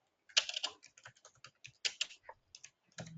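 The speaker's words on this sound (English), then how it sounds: "I can hear somebody clicking on a keyboard." Computer keyboard keys clicked in a quick, irregular run of distinct taps, fairly close and clear with no talking over them, as though someone left a microphone unmuted during an online meeting.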